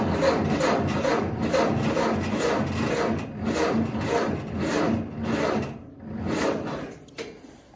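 Ford 860 Workmaster tractor engine cranking over repeatedly without catching, a loud, close, rhythmic churning of starter pulses with a brief pause before another burst of cranking.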